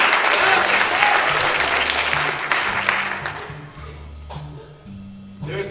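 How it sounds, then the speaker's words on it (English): A stage-show audience gives loud, dense applause and cheering that gradually fades as a few scattered claps linger, with music playing underneath, at a live performance featuring a rope guillotine act. "Let's give Big Charlie a big round of applause."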